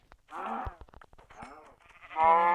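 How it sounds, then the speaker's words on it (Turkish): Several short, blocky animal calls in Minecraft, low cow moos mixed with bleats, sound in quick succession, close and fairly loud with brief clicks between them. "Şimdi ilk olarak inekler."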